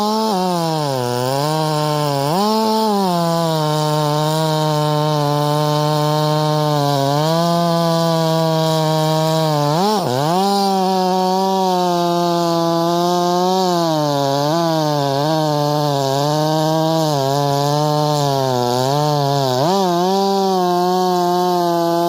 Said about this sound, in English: Both saws are running 28-inch bars, full comp,